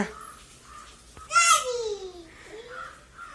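A single shrill call from a young sparrow chick rises sharply in the middle, near and clear, with soft child-like babble and quiet sounds around it.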